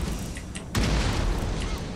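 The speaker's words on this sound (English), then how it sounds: "We have cannons now as well, so we're going to use them on you." A loud, deep cannon boom from artillery fire in Empire: Total War, striking once at about the midpoint and rumbling on through the remaining second against a steady battle backdrop.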